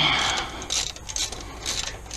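A wrench works a 1/2 inch bolt loose on a Rochester Quadrajet carburetor, giving a few quick close ratcheting clicks and metallic scrapes in short bursts.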